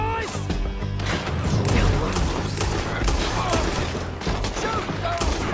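A loud, dense Red Dead Redemption 2 town shootout, overlapping gunshots and impacts crackling continuously, with shouting voices mixed in.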